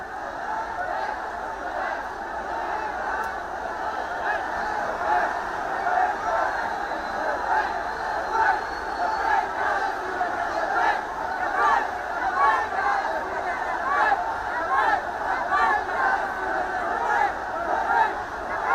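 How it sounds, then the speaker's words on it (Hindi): Large crowd of Mufti Azhari supporters gathered at Ghatkopar, shouting and chanting slogans such as Labbaik, a dense steady roar of many voices with no single voice standing out. "मुफ्ती अजहरी के समर्थकों ने जमकर हंगामा किया और लब्बैक जैसे नारे लगाए गए।"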